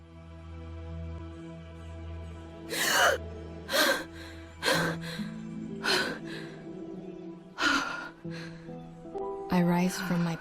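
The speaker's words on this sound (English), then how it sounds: "I rise from my pillow with the most life-grasping gasp I've ever done." A voice performs a sharp waking gasp for breath, a series of quick, loud, ragged inhalations spaced a second or so apart, heard over a soft sustained musical backing.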